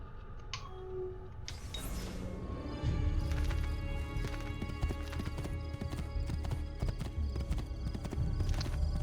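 Hooves of a horse in Assassin's Creed II clip-clop in a fast galloping rhythm, starting after a brief whinny-like cue and running loud and steady to the end, with no one speaking.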